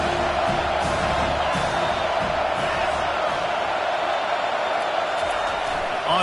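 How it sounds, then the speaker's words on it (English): Home stadium crowd in the Madden football video game roars in a steady, loud wall of cheering that fills the stretch without a break, with commentary speech mixed underneath. "how nice is it to have the home crowd going absolutely bananas?"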